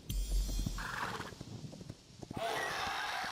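A horse in the video game Hytale gives a clear whinny alongside light hoof clip-clops, a short, close sound followed by a second, brighter neigh near the end.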